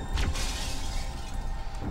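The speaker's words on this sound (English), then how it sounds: "Let's break glass, because glass is," Glass shattering in the shooter game Halo CE, one sharp close crash at the start trailing into a brief noisy wash, with no talk.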